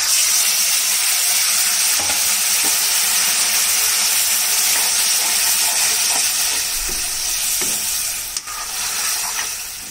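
Leftover pulusu curry goes into a pan of fried ingredients for mirchi masala, raising a loud, steady sizzle and hiss with occasional stirring scrapes and no talking.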